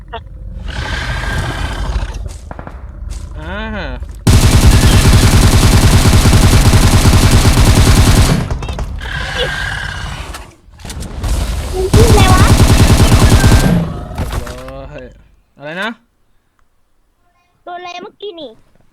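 Rapid gunfire bursts in the mobile battle-royale game PUBG Mobile, several loud sustained volleys separated by gaps, mixed with excited talk between players.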